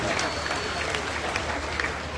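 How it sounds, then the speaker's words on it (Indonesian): Audience applauding at an interfaith prayer ceremony for the Indonesian police anniversary, a brief burst of dense clapping from a crowd with scattered louder claps. "Sekali lagi kita beri tepuk tangan untuk Ketua Majelis Ulama Indonesia"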